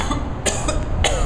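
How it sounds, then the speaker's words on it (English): Two or three short coughs from a person who has just been smoking, a rough burst near the middle and another toward the end, close and fairly loud over a low room hum. "Coughing anyway."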